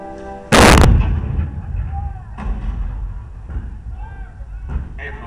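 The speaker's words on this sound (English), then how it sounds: "The cannon spoke for war, bitter, violent, and devastating." A single heavy cannon blast from the 1861 bombardment of Fort Sumter booms loud and close, then rolls into a long low rumble with fainter thuds and murmuring voices after it.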